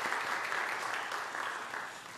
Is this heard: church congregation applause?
yes